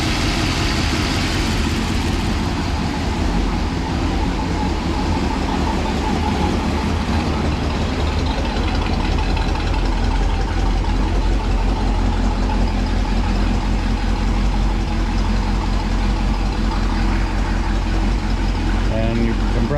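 A 1956 engine idles smoothly and steadily, a continuous low rumble running throughout at a constant level with no talk over it.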